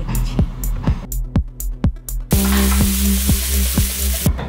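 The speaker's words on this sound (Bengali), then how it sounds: "2 মিনিট 2 থেকে 3 মিনিট করে ভেজে নিচ্ছি" Beef steak frying in a pan with butter, rosemary and smashed garlic, giving a close, loud sizzle with repeated sharp clatters and scrapes, and a dense hiss that swells over the second half.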